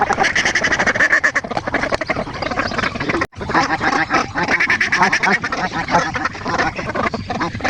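A flock of ducks on a village pond quacks loudly and continuously at close range, an overlapping chorus of harsh rhythmic calls with only a brief pause partway through.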